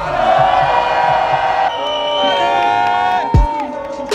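A crowd yells and cheers loudly and continuously, with whoops and shouted voices layered over each other, and a brief thud near the end.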